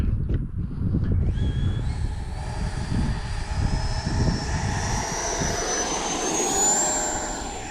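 An FMS Futura 80mm electric ducted fan RC jet passes in flight with a steady high turbine whine that rises in pitch and swells as it draws near, over wind noise. No one speaks.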